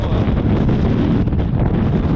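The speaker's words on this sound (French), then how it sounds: "Le vent est assez impressionnant" Strong wind buffets the microphone in a dense, roaring rumble that stays steady and loud throughout the short stretch.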